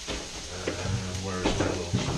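Onions and peppers for chicken fajitas sizzle steadily in a pan, a close continuous hiss with light stirring scrapes and faint voice underneath.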